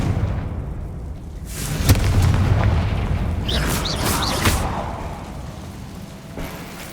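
An explosive Confringo blasting spell booms in Hogwarts Legacy, a deep rumbling burst followed by sharp cracks and pops, loud and close, with the roar fading out over several seconds and no talking.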